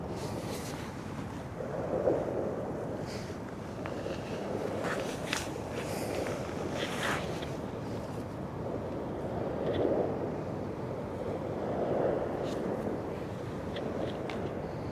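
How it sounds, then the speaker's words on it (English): Sea waves wash onto the shore of the Westerschelde in the Netherlands at sunset, a soft steady surge with gentle swells rising every few seconds, heard faintly at a distance through wind noise. "Oh, you actually hear the waves?"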